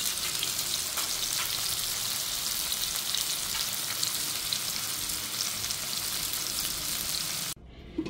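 Steady, dense sizzle of fish frying in hot oil in a pan during home cooking, including hilsa fish, continuous and close for most of the stretch before cutting off abruptly near the end.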